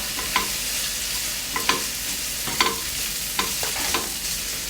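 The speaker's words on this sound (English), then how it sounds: "continue stir frying over low to medium heat until the onion starts to turn soft and slightly brown" Steady sizzling of chopped onion stir-frying in a saucepan over low to medium heat, with a few light scraping clicks as it is stirred.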